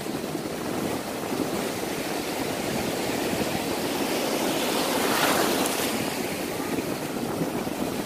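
Ocean surf at Mero Beach, with low waves breaking in a continuous rushing wash that swells to a louder crash midway, no voices.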